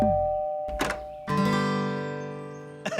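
A doorbell rings indoors, a bright electronic chime that sounds out and slowly fades, preceded by a brief knock or thud, with no voices.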